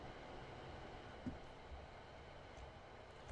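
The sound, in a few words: train running sounds in video game Train Sim World 6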